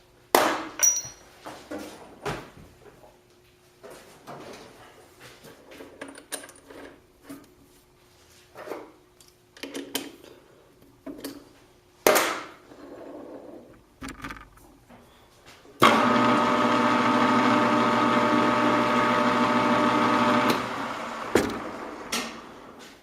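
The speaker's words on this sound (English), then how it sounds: "And we're going to chamfer this hole just a little bit." A machine chamfers a hole in a gyroscope base. Scattered metallic taps and clinks come first, then about five seconds of steady, loud cutting whir before a few more knocks.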